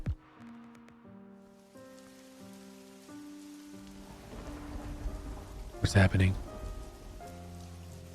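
Steady rainfall in the video game Merry's Seven Wishes patters beneath soft, sustained music tones and swells into a brief loud crash like thunder midway, with a voice speaking briefly.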